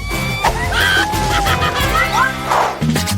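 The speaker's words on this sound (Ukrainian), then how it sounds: "Яєчня впала мені прямо на обличчя." A fried egg smacks onto someone's face in a comic food-prank challenge, a sudden wet impact set against bright music and cartoonish voices.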